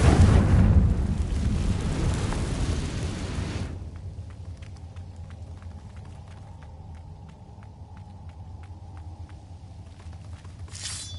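A Confringo blasting spell explodes in Hogwarts Legacy with a loud, rumbling burst that lasts about four seconds and then fades to a quiet ambient bed with faint ticking.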